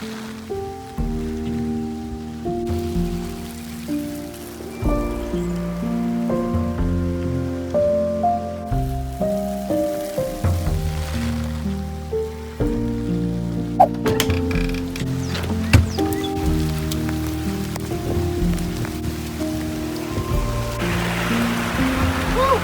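A steady wash of rain falls outdoors in a Midwest vegetable garden, continuous and fairly loud, with a voice speaking over it at times.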